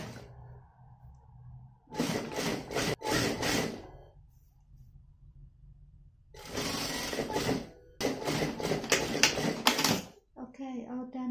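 A sewing machine stitches the hem of a sequin formal dress in three loud bursts of rapid mechanical whirring separated by pauses, with speech in between.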